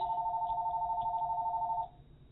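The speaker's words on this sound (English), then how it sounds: "Sorry for the phone ringing." A house phone rings indoors, one sustained electronic tone that holds steadily for nearly two seconds and then cuts off, leaving a quiet room.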